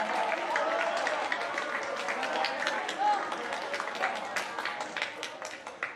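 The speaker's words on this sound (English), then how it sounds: "Let's give them all a round of applause." Sustained applause from an audience at a middle school awards assembly, dense steady clapping filling the room for several seconds before gradually thinning, with a voice heard briefly over it.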